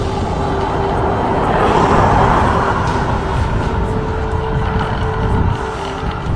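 A car rolls past on a fog-bound road, a broad steady rumble of engine and tyres that swells slightly mid-way and then fades, with no talking.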